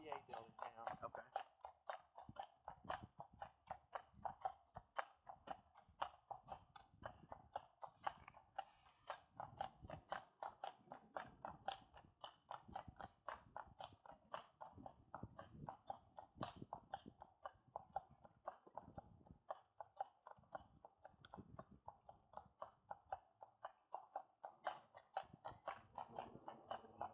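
A carriage horse clip-clops steadily through the historic streets of downtown Madison, Indiana, hooves ringing in an even rhythm close by while people talk quietly over the hoofbeats.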